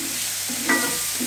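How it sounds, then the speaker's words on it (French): Garlic browning in fat in a pan while being stirred, giving a steady soft sizzle with one brief scrape of the utensil partway through. "Donc on le fait dorer en remuant régulièrement pour éviter que ça brûle de trop."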